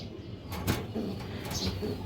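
Breeder pigeons give short, low cooing calls close by against a steady background murmur.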